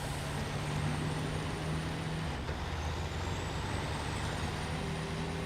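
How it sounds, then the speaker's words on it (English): A fast truck in the off-road driving game Snowrunner runs with a steady, loud engine rumble and a continuous wash of broadband noise, its tone barely changing over the few seconds. "Pretty fast truck."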